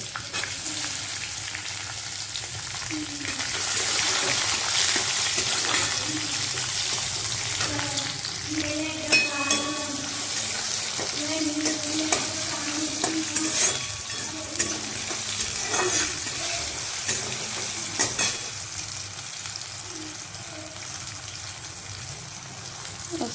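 Peanuts and tomato fry in a pan for a Khandeshi brinjal bharit, a continuous close sizzle with irregular spatula scrapes and clinks that grow busier midway, with no speech.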